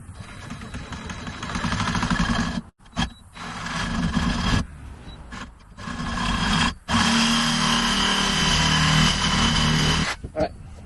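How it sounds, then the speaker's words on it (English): Sawzall reciprocating saw cutting steel for a gong target stand outdoors, a loud buzzing mechanical roar running in several bursts with brief pauses between cuts. "Sawzall's not really probably the best thing to cut this with, but it's what I have and it works"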